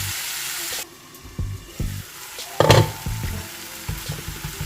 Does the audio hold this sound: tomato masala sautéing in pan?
yes